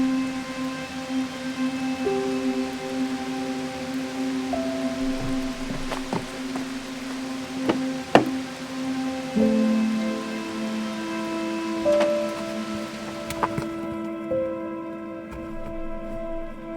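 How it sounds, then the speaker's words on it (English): Rain pattering steadily on a car while parked or driving slowly through forest and fields, with scattered louder drops and faint tonal hum underneath, no talking. "It's raining today."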